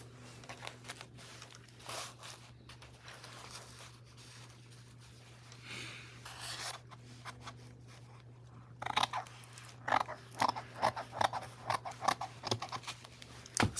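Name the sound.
scissors cutting paper for journal pocket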